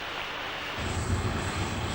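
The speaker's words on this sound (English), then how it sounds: "as the aircraft accelerates smoothly through Mach 1, the speed of sound" Jet aircraft accelerating through Mach 1, heard as a steady broadband roar and rush that deepens and grows slightly louder partway through, with no voices.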